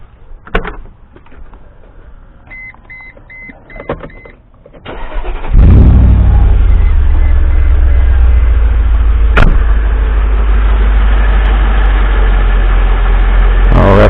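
A Mercedes G-Wagon W463 with a newly replaced fan clutch cranks over and catches after some faint clunks and chimes, then settles into a loud, steady idle that runs close and continuous.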